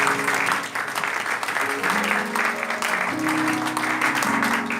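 A church congregation claps loudly and continuously, a dense steady wash of applause that fills the room, with voices and a low hum of music underneath.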